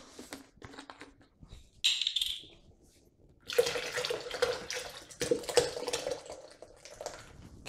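Liquid malt extract poured out of a pack for brewing a big double IPA, heard as gurgling, splashing pours in bursts with brief pauses between them, close and fairly loud, with no talk.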